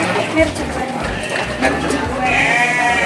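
Goats bleat on a village goat farm in Boyolali, Indonesia, with overlapping wavering cries close by over a busy background where people talk.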